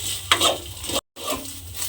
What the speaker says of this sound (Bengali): এটাকে আবারও একটু নেড়ে ছেড়ে ভাজা ভাজা মতো করে নিতে হবে